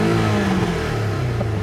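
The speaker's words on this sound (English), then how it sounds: "when I'm sitting here revving it, I think the engine sounds fantastic" A 2018 Porsche 718 Cayman GTS engine in sport mode, loud and close, its steady low drone sliding slightly down in pitch as the revs ease off, with no talking over it.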